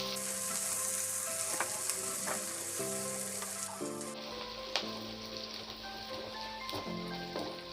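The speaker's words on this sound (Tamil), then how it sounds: "பீன்ஸ், கேப்சிகம், இப்போ இதை ஒரு வாட்டி நல்லா ஃப்ரை பண்ணிக்கோங்க." Beans and capsicum frying in a pan, a steady bright sizzle with occasional scraping stirs, fairly close and continuous with no talking.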